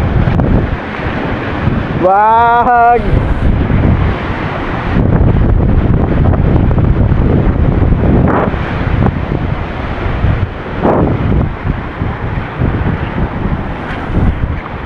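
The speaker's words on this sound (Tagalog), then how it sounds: "Lakas oh, alon oh." Strong ocean waves crash against rocks at Dingalan, Aurora, a continuous loud roar of surf mixed with gusty wind buffeting the microphone, while a man lets out a short shout early on and people call out faintly.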